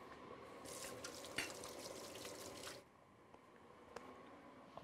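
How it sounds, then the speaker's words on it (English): A kitchen tap runs steadily while hands are washed, a faint continuous hiss of water with small splashes, dropping to a quieter trickle partway through. "I'll wash my hands first"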